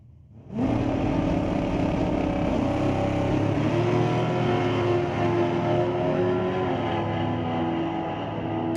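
Drag race cars launch side by side at Mission Raceway Park in an ET bracket series race, their engines erupting suddenly into a loud, sustained, close roar that holds steady for several seconds.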